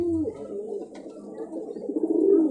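Pigeons kept by a Rajshahi pigeon fancier, a steady low cooing and murmuring from several birds close by, continuous throughout with a few brief chirps.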